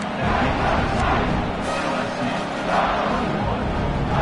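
A college football stadium crowd roars steadily before a kickoff, a dense wall of cheering that swells slightly and holds throughout, with no clear voices standing out.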